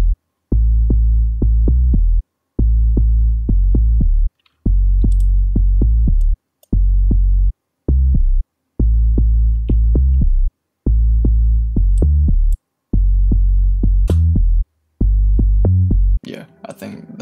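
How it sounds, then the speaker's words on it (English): Synthesized house bass line with an overdrive character pulses in loud, deep, repeating phrases separated by short gaps, with a brief noisy burst at the end. "That's how I want the bass to sound."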